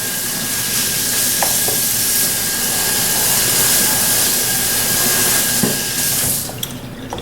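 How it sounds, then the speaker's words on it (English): Shrimp creole sizzles steadily in a pan while being stirred, a dense continuous frying hiss with occasional scrape clicks from the spoon, close and fairly loud, quieting near the end. "Just want to give it a good stir. Mix them around here a little bit."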